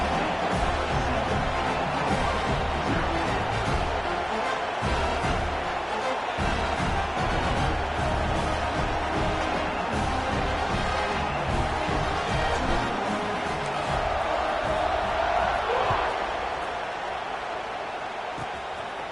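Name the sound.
football stadium crowd cheering before kickoff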